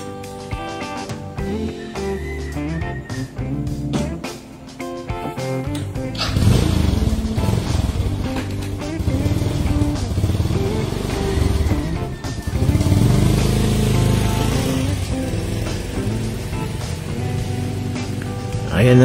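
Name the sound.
motorcycle passing on street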